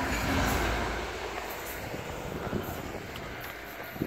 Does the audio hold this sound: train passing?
yes